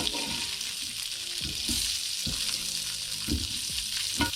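Greens cooking in olive oil with salt in a pan, a soft, continuous sizzle broken by several low scraping thumps as they are stirred and moved.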